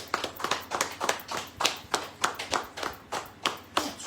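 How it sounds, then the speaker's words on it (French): Church congregation clapping in unison, a brisk, regular rhythm of sharp claps at roughly three per second, close and fairly loud with a faint hum underneath. "applaudis le roi de roi"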